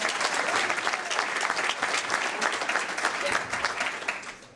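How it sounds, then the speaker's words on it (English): Guests at a girls basketball banquet give a full round of applause, loud dense clapping that carries on steadily before tapering off at the end. "Let's give her a round of applause."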